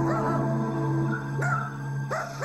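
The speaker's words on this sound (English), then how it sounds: "Every time I get on the phone, she's barking." A dog barks and yips close by in a few short excited bursts, with whimpering tones between the barks.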